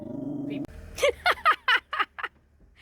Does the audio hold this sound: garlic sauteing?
no